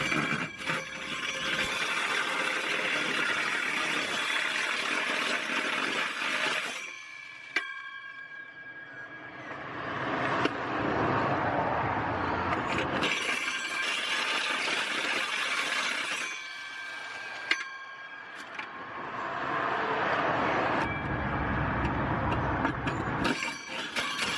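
Power tool cutting a 102mm hole through the metal inner guard of a vehicle's engine bay for a snorkel fitting, grinding in three long bursts separated by brief pauses, close and harsh.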